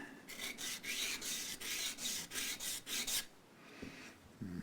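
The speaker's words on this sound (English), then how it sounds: "I'm just going to sand this as flat as I can get it." A part of a Martin HD28 acoustic guitar is sanded flat with rhythmic back-and-forth rasping strokes, about ten close, even passes before stopping.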